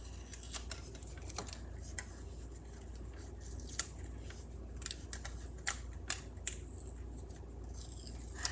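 Scissors snip out a paper bobber shape for a fishing-themed card, the small sharp cuts scattered irregularly and close, faint over a quiet background with no talking.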